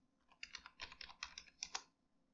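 Quick, light typing on a computer keyboard, a short run of about a dozen soft key clicks close by, in quiet surroundings.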